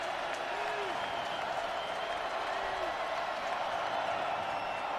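A college football stadium crowd at a Tennessee versus Vanderbilt game keeps up a steady, dense roar with a faint clapping texture, holding an even level throughout.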